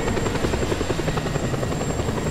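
Helicopter in the video game Just Cause 2, a loud, continuous rapid rotor chop with a buzzing engine whine, close and unbroken throughout.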